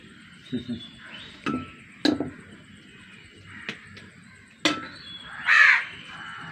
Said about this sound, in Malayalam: കാക്ക